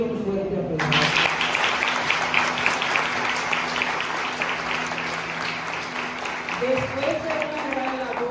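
A church congregation gives the missionary group a strong round of applause. Sustained loud clapping swells in after a brief moment of voice and keeps going, with voices audible again near the end.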